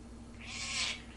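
A cat gives a single short, bright meow in the game No Man's Landscape. It sits over a steady low background hum with no talking.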